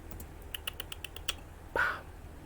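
Typing on a computer keyboard during live coding of a website in C: a quick run of about a dozen light, evenly spaced key clicks, close and fairly soft, followed by a brief louder rustle, with no talking.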